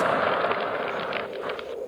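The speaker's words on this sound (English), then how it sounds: "So this is the sound of the sperm whale." Underwater recording of a sperm whale: a dense hissing wash of rapid clicks and crackles, steady and fairly faint throughout.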